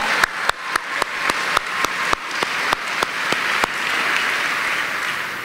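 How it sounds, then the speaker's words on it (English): At a school commencement ceremony, a few sharp, separate claps ring out at first. They quickly swell into full, steady audience applause that carries on to the end. "yes, we can applaud there, that's good."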